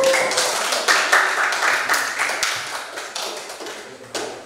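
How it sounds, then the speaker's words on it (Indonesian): Students in a classroom clap in a rhythmic pattern, a series of sharp, evenly spaced bursts repeating about once a second, fairly close and loud. "Oke, tepuk tangan dulu."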